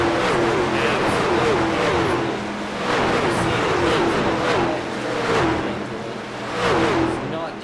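NASCAR trucks in a sim racing game at Pocono roar steadily at full throttle, engine note rising and falling in waves as they pass, with a commentator talking over the racket.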